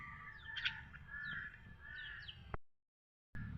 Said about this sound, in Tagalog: Ayun, may uwak dun.